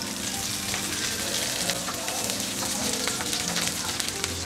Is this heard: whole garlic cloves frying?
yes